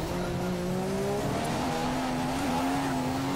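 Formula 1 race car in the F1 2015 video game during a Monaco practice session, a steady high engine drone holding near-constant pitch with slight shifts, continuous and fairly loud with no talk.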